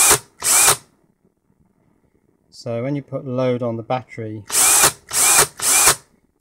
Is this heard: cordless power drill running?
yes